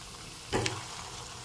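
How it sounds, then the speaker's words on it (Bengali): Gulab jamun balls fry in hot oil in a pan, a faint background hiss broken by one short burst of sizzling as the pan is shaken. "বাকি গোলাপ জামুনগুলোকেও একইভাবে ভেজে নেব"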